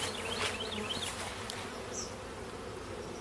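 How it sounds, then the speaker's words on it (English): A large European hornet buzzing near a honeybee colony, a wavering close drone over a steady outdoor hum, with a couple of faint clicks. "I just saw a nice large European hornet"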